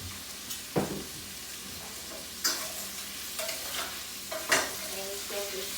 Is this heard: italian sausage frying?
yes